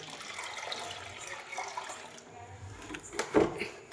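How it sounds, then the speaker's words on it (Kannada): Water is poured over lentils to soak, splashing and running steadily, with a louder splashing burst near the end, close by and fairly quiet. "ಫೈನಲಾಗಿ ನೀರು ಹಾಕಿ ಇಟ್ಬಿಡೋಣ"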